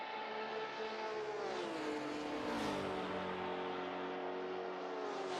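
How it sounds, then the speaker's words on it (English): A Jaguar race car at a 6 Hours of Le Mans endurance race gives a loud, continuous drone with an aircraft-like whine, its harmonic tones sliding downward and then settling. No one talks. "that Jaguar just literally sounds like an aeroplane more than a car. It has quite a it's quite a distinct noise"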